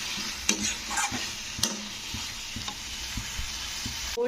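Elephant foot yam sautéing with spices in a pan, a low steady sizzle under a few sharp scraping stirs and clicks of the spatula, close by.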